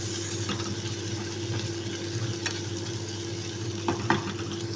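Garlic and onion sauté together in a pan while bitter gourd leaves are being cooked: a steady, close sizzle runs throughout, with a few louder stirring clinks near the end and no talking.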